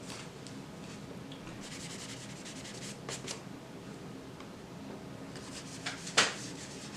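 Pan pastel rubbed onto paper to blend a background, a soft continuous scratchy rubbing with faint strokes, close and quiet, ending in a brief sharper scrape.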